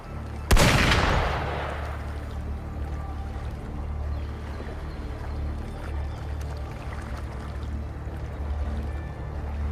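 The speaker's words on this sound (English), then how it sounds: "Gunfire!" A single sharp gunshot cracks out loudly, followed by a lingering low rumble and steady background drone.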